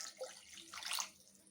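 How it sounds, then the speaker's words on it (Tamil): A tumbler of water pours into a pan of sautéed potato mixture, a brief soft splash and gurgle that is faint and quickly over. "டம்ளர் அளவுக்கு தண்ணி விட்டுக்கிறேன்"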